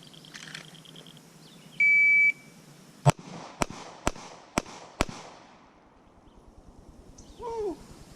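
Glock 43 pistol firing five sharp, loud gunshots in a quick, fairly even string at an outdoor range, preceded by a shot-timer beep.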